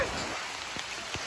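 Rain patters steadily on a surface, a soft continuous hiss with a few louder drops, close by and without talk.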